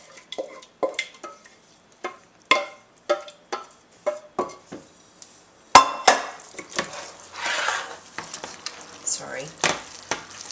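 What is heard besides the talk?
stirring sauce into pasta for baby's macaroni cheese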